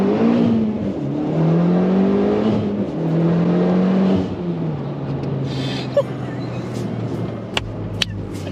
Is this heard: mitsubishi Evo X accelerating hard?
yes